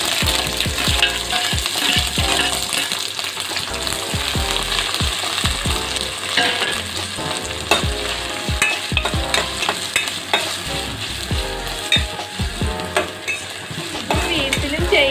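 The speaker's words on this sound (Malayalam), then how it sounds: "എണ്ണ ചൂടാകുമ്പോൾ പച്ചമുളക്, ഇഞ്ചി, വേപ്പിലിട്ട് വഴറ്റിയെടുക്കും" Green chili, ginger and curry leaves sauté in hot oil with a steady sizzle, while a spoon clinks and scrapes against the pan in a constant stirring rhythm, close by.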